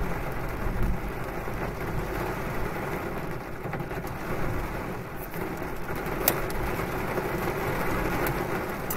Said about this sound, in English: I love storms.